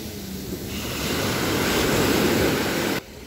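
Ocean waves washing onto a beach shore at Fuengirola, Spain: a continuous, loud surf roar that swells midway, mixed with wind buffeting the microphone, then cuts off abruptly near the end.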